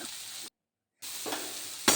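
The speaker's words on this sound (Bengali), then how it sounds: "টমেটো কাঁচা লঙ্কা আদা কুচি এগুলি দিয়ে একটু ভালোভাবে নাড়াচাড়া করে নিতে হবে" Chopped tomato, green chili and ginger stirred and frying in a pan for an aloo matar breakfast dish, a soft sizzle broken by a half-second gap of silence, then faint stirring and a sharp clatter at the end.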